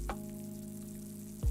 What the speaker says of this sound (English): you might not hear it, but it's definitely sizzling.